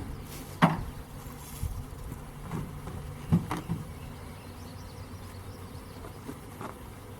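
A bee swarm hums faintly around a truck and a nearby tree limb, a soft steady insect drone broken by a few sharp knocks and thumps close by.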